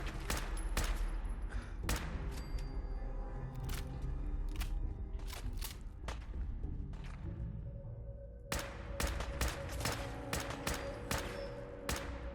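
Shots from a semi-automatic weapon in Fallout 4, a series of sharp, separate cracks fired in quick clusters with short gaps, loud against a quiet game background.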